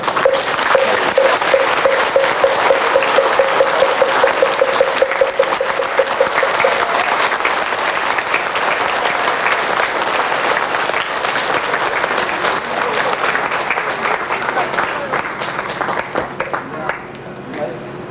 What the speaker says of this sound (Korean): 여러분 박수로서